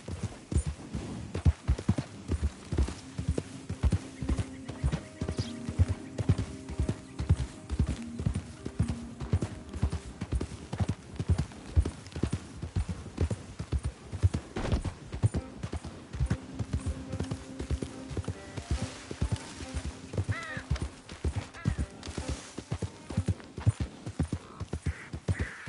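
Horse hooves clip-clopping in a PS4 video game, a fast, relentless rhythmic beat of close hoofstrikes running the whole time, with faint low tones of game sound underneath.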